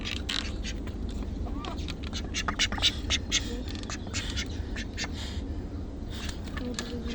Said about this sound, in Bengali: নিচে আমার হাঁসগুলো আছে।